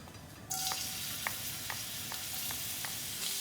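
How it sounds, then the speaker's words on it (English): Garlic hits hot oil in a wok and sizzles at once into a bright, steady frying hiss, with a few soft stirring clinks and pops over the continuous crackle. "Once the oil is hot, I'm going to add the garlic."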